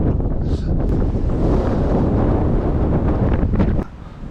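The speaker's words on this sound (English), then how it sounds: "It's definitely a bit windy." Strong wind buffets the microphone on an exposed hillside walk above Clevedon, North Somerset, a loud continuous rumbling roar with gusty swells that eases slightly near the end.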